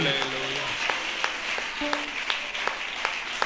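A Tamil church congregation clapping during a Sunday service, scattered rhythmic claps over a sustained tone, with voices mixed in.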